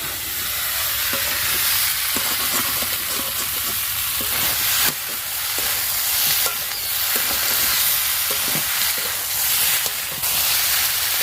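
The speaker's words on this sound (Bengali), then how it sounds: "এবার চিংড়ি মাছ ভাজাগুলো দিয়ে দেব। চিংড়ি মাছটা দিয়ে কিছুক্ষণ কষে নেব," Fried prawns and jackfruit with spices being sautéed in a pan: a loud, continuous sizzle and hiss of frying, broken by repeated scraping stirs of a spatula at an uneven rhythm, with no speech.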